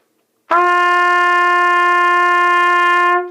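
A trumpet plays an open G as one long, steady sustained tone, loud and close, starting cleanly and held for several seconds with no other sound.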